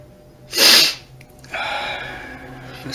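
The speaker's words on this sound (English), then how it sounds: "The sniffles." A single loud, close sniffle or sharp nasal snort, followed after a pause by a longer, softer breathy exhale, with faint background hum and no talking.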